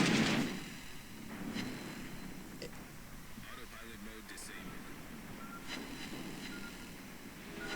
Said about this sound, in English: The sound went all muffled for a second because of that damage I just took.